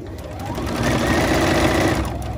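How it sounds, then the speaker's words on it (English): A sewing machine runs a steady, continuous stitch along a seam on an infinity scarf with a hidden zipper pocket, close and fairly loud throughout. "I'm going to go back through and I'm going to either serge, overcast, or zigzag on that"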